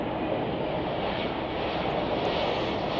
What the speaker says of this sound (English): This is Iberia Flight 342, going to be taking off to Madrid in a few minutes here on an Airbus A330.